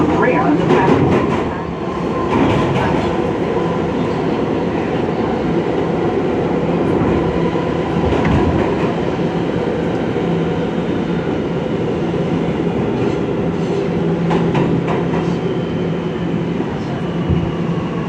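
An R211 F subway train rolling between stations in New York, a steady loud rumble with rhythmic track clatter and occasional clicks, with faint voices underneath.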